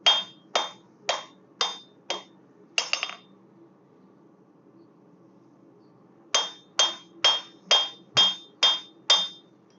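A hammer forges a railroad spike into an axe blade: sharp, ringing metal blows land in a steady rhythm, about six strikes, a pause of a few seconds, then seven more, close and loud with no talk.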